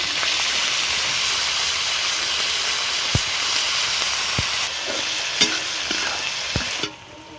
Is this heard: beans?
yes